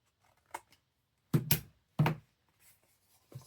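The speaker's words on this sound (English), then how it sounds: "So I'm going to snip these now." Scissors snipping paper for a craft box, a few sharp close cuts in quick succession, separated by quiet pauses, with a softer snip at the end.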